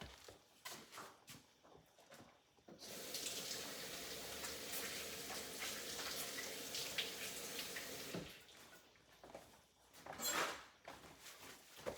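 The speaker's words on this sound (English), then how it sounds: "let me go wash my hands" Water runs from a kitchen tap as hands are washed, a steady close gush that lasts several seconds between handling clatter and brief rustling before and after.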